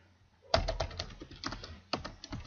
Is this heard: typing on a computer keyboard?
yes